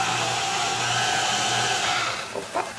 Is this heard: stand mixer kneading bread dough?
yes